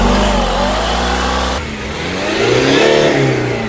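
A car engine fitted with an oil catch can revs loud and close, its pitch dropping briefly and then climbing again as the throttle is blipped, with no voices over it.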